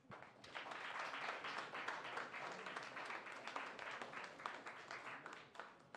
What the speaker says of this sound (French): on peut vous applaudir, vous autres aussi